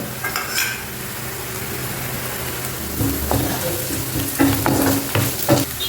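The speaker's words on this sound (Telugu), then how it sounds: "మంచి గోల్డెన్ కలర్ వచ్చే వరకు వేయించుకోండి" Onions fry in hot oil until golden, a dense steady sizzle up close, joined later by a spoon clinking and scraping against the pan in short bursts, with no voices.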